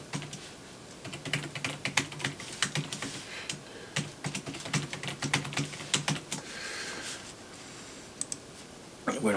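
A password being typed on a computer keyboard, with rapid close key clicks in uneven bursts and short pauses, ending in a few louder taps.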